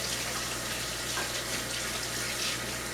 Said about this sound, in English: I'm going to rinse my hands real quick because I was working with raw cookie dough